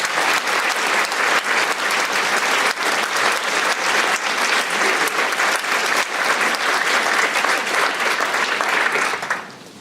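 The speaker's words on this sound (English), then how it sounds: "Could we give her a round of applause, please?" Sustained audience applause at a college Martin Luther King convocation, many hands clapping steadily and fairly loud for about ten seconds before it quickly fades out.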